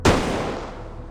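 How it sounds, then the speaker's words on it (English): A single gunshot in a cutscene of the video game Reverse 1999, a sharp loud crack followed by a long reverberant decay, with no talk. "The gunshot draws every soldier's attention."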